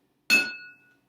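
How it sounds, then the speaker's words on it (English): A single tap on an empty drinking glass gives a bright, high-pitched clink that rings out clearly and fades over about half a second, alone in silence. "When you tap the empty glass, it makes a higher pitch than when you tap the glasses with water."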